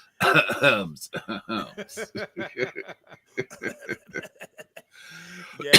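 A man coughs and clears his throat with a few short bursts close to the microphone on a sports talk podcast, then talks briefly with a small chuckle.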